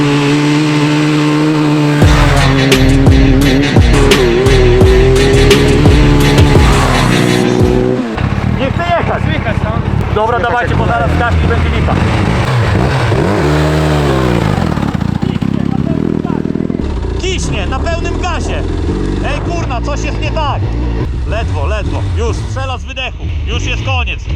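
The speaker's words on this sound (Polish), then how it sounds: "Zwróćcie uwagę na to, jak ten motocykl jeździ. On ledwo się odpycha." A Suzuki Hayabusa sportbike ridden off-road, its engine revving and bogging as it barely pulls, heard loud and close with shifting pitch, while people talk over it.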